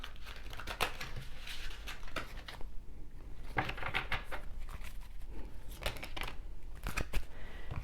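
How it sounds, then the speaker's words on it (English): Tarot cards being shuffled by hand, a steady run of close, crisp riffling and flicking bursts with brief pauses between passes, alone with no voice. "Let's keep shuffling."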